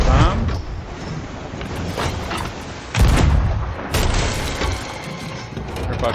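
Booming cannon blasts from cluster bomb shots on a ship in the Sea of Thieves game, several heavy thuds spaced a second or so apart over rolling ambient noise, with someone talking.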